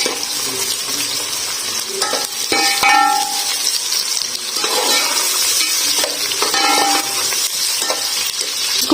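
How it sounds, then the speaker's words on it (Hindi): Onions sizzle steadily in hot oil with cloves and cinnamon pieces for biryani, with a spoon stirring and occasionally clinking against the pan throughout. "थोड़ा सा पकने लग जाए तो साथ ही मैं इसमें प्याज डाल दूंगी। प्याज को अच्छे से फ्राई कर लेंगे।"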